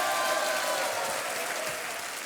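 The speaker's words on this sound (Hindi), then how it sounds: "तालियां बजती रहनी चाहिए।" A studio audience on a televised quiz show applauds steadily, a dense wash of clapping that holds at an even level for its whole length with no talk over it.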